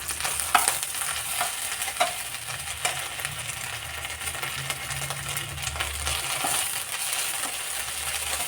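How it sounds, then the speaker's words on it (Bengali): Sidol, a dried fish, sizzles steadily in oil in a wok, a dense continuous frying hiss with occasional light pops and scrapes, close and fairly quiet, no voices. "আমি কড়াইতে তেল দিয়ে শীতলটাও তেলে দিয়েছি"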